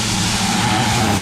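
A Tornador air-powered cleaning tool loaded with McKee's mixture blows onto a car tire, making a loud, steady, close hiss of rushing air for about a second.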